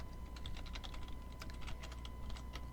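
Typing a customer's name on a computer keyboard: a steady run of quick, light key clicks, close and clear over a faint electrical hum.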